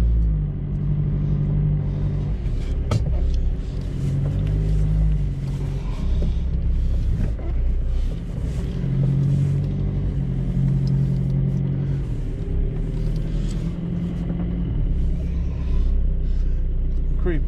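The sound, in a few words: car engine started and driving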